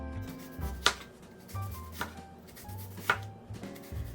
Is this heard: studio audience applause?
no